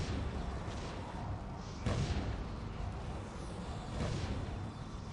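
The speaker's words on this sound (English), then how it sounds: "Just explosions and little inferno turrets just blazing them." Explosions and flame bursts from inferno turrets in the tower-defense game Defense Grid, a dense low rumble with two heavier booming thuds standing out over continuous fiery roar.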